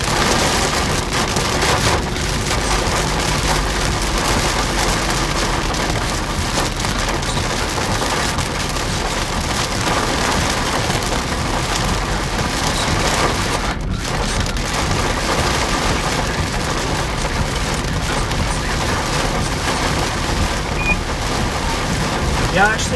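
Hail and heavy precipitation pound steadily on a vehicle during a tornado-producing storm in northeast Arkansas, a dense continuous clatter that stays loud throughout, with one sharp louder knock midway.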